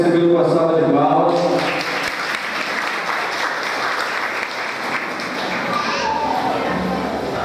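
A crowd gathered at a school project event in Rio Maria applauds in welcome, a dense steady round of clapping with children's voices mixed in throughout.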